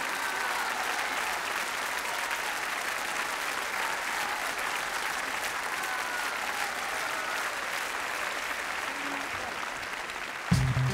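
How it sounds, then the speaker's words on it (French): A large audience at a televised concert applauds a choir with dense, sustained clapping that holds at an even level for about ten seconds before a sudden thump near the end. "On peut les applaudir très fort."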